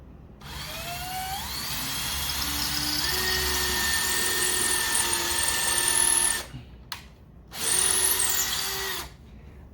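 A cordless drill bores a pilot hole for mounting living room blinds, whining up in pitch and running steadily close by for several seconds, then stopping, briefly restarting and cutting out again.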